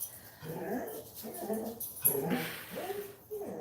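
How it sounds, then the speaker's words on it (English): A dog whimpers and yips in short, repeated, high-pitched bursts, fairly faint and close, with brief pauses between the cries. "Listen to my dog. What is he doing?"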